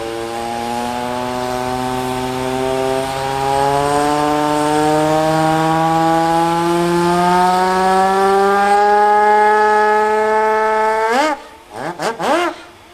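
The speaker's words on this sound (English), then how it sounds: "Somebody's got a steam siren." A loud steam siren at a steam rally blows one long sustained tone that slowly rises in pitch, then cuts off into a few short sputtering blasts.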